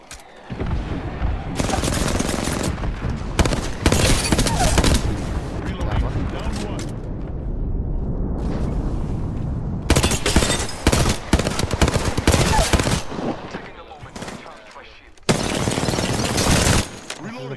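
Heavy automatic gunfire erupts in the video game Apex Legends, arriving in loud, dense bursts separated by short quieter gaps, with booming impacts and players talking between the volleys.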